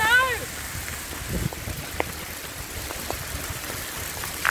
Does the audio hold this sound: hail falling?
yes